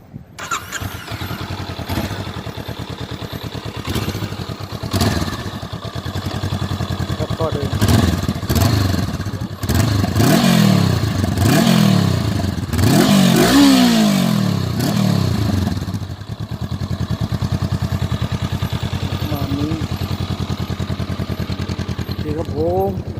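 A 2019 Honda CB500X with a dual exhaust starts and idles nearby, then revs repeatedly in rising and falling bursts before settling back to a loud, steady idle, with no talking over it.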